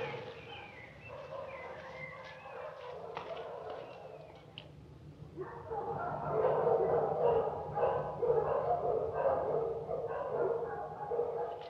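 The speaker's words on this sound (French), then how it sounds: "Les chiens. Il y en a combien?" Several dogs barking and yipping at a distance, growing into a busier chorus of overlapping barks and whimpers midway, outdoors with faint birds in the background.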